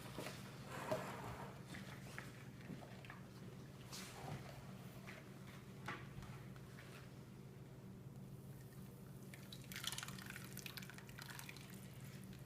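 Cold process sea salt soap batter pours into a mould, making soft wet drips and splashes that run steadily for about twelve seconds over a low background hum, with a few louder splashy bursts near the start and the end.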